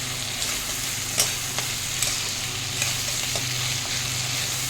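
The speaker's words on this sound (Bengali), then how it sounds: "নুন দিয়ে পেঁয়াজ দিয়ে ভাজতে দিয়েছি" Tomato and onion fry with salt in a pan, producing a constant, close, crackling sizzle with a few light scrapes of stirring.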